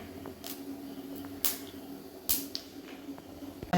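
Mustard seeds pop in hot oil for a Kerala-style Onam sadya dish. A few sparse, sharp pops spaced a second or so apart stand out quietly over a low background hum.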